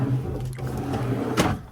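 Drawers in a 2023 Modern Buggy Mod Bug Journey Class B camper van slide and bump shut, a low rolling rumble ending in a sharp close knock, heard up close.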